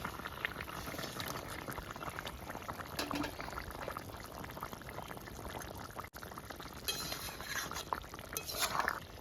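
Ridge gourd and katla fish curry at a rolling boil in the pot, a dense continuous bubbling hiss with occasional light clinks, close and fairly quiet, with no voices.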